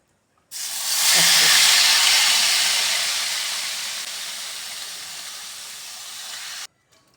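Kachki fish and vegetables tipped into a hot wok burst into a loud, hissing sizzle that swells quickly and then slowly fades over several seconds before stopping abruptly.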